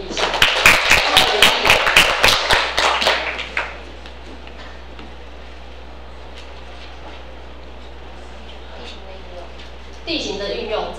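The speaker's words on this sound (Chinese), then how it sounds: "谢谢宏伟帮他掌声鼓励一下" Classroom audience clapping for a student during a junior high school geography lesson presentation, a burst of dense applause lasting about three seconds before fading into quiet room tone.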